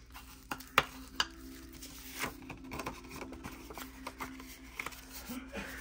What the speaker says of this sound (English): So I'm going to fold on the score lines.